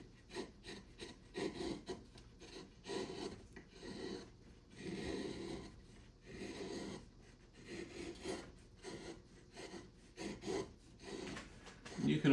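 A knife blade carves cottonwood bark in short, repeated rasping scrapes, a soft, close rhythmic shaving sound that comes in uneven strokes.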